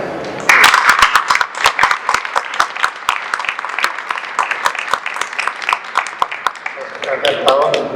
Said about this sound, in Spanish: les quiero pedir un aplauso para Marcos